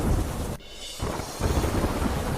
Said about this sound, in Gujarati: અમદાવાદમાં ધોધમાર વરસાદ થતા રસ્તાઓ થયા પાણી